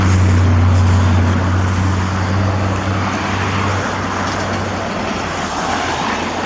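Road traffic outside a New Zealand police patrol as cars slow down ahead, a steady broadband rumble of passing vehicles with a loud low engine hum in the first half that fades, no talk.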